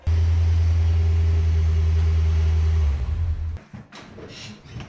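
A 1990-1996 C4 Corvette engine runs close by with a loud, steady low rumble for about three seconds. It then cuts off, leaving quieter handling noises.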